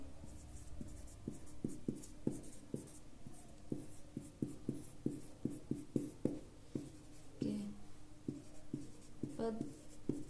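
A marker or chalk taps and scrapes in quick rhythmic strokes while a teacher writes out a maths series on a board, steady and fairly close, with no one speaking.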